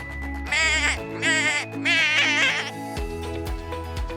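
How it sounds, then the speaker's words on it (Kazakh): A goat bleats three times in quick succession, loud and wavering, over steady background music. "ешкі мә деп маңырайды"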